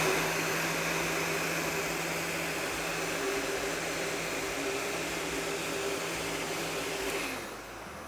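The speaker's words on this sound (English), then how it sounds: "So to remove the overlay, what we're gonna do is use a heat gun." Heat gun warming the glue under an ice maker control overlay, a constant loud blowing roar with a steady hum that runs unbroken for about seven seconds before dropping off slightly at the end.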